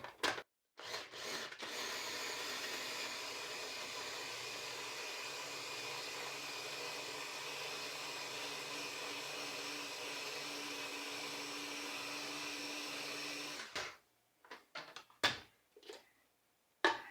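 Blender whirring steadily through pepper sauce made with Anaheim and poblano peppers, a loud continuous motor drone for about twelve seconds, then stopping, followed by a few knocks and clunks.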